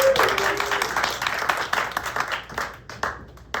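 Audience applause in a theater before an improv show, a lively burst of clapping that is loud at first and gradually thins into scattered claps, with a brief voice early on.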